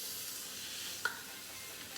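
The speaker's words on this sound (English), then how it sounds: "I'm gonna let it sizzle." Steady, fairly quiet hissing sizzle of tri-tip beef frying in a pan, with a single small pop partway through.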